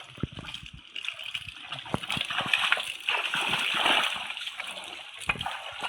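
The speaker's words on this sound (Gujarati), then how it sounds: "ભેહું પાણીની ત્રેહ લાગી છે એટલે નદીમાં ઉતરી ગઈ છે" Buffaloes wade into a river in the Gir countryside to drink, giving steady splashing and sloshing water with brief thuds and surges throughout, close and fairly loud.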